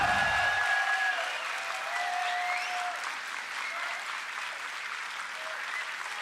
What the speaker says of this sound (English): I really respect the energy of the crowd, no matter who they're cheering for.